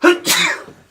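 One close, loud sneeze: a sharp initial burst followed by a longer breathy release that fades out quickly.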